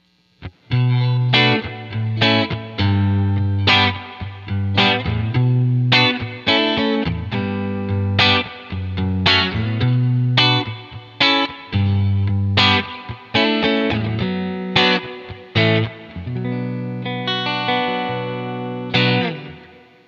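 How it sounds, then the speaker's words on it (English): Electric guitar through a Quad Cortex amp and cab model with plate reverb, played alone as a run of crisp picked chords and single notes with a shimmering reverb tail, loud and close. "This is amp, cab, and plate reverb."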